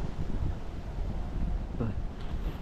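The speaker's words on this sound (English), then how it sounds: "It's a little windy out, as you can see. And you can probably hear it too." Steady low wind rumbles and buffets against the microphone throughout beside a freshly cut cornfield in Iowa, with a faint voice-like murmur partway through.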